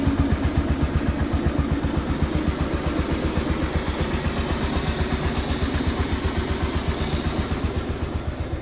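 A 1970 John Deere JD140 H3 garden tractor engine running close by, a steady idle with rapid, evenly spaced firing pulses thumping throughout, no voices.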